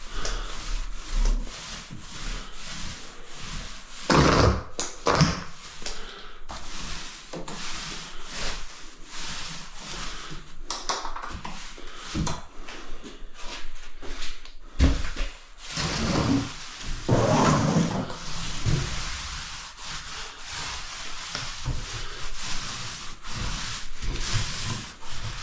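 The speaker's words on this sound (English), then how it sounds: "I've got to scrape my floor yet, give it a bit of a scrape with a trowel" A trowel scraping across a tiled floor during preparation for waterproofing, giving a steady, gritty rasping of repeated strokes with a few louder scuffs, close and continuous, with no talking.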